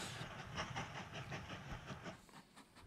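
Train in the railway strategy game Mashinky backing out of a station, heard as a steady rolling rumble with soft rhythmic clacking and hiss, moderately loud and continuous with no talk.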